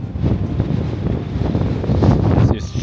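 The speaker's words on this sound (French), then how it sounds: "Et on a aussi un vent incroyable." Strong wind blasts across the microphone on the fortress ramparts above the fjord in Trondheim, Norway, a loud, low, continuous buffeting roar that surges and dips with no speech.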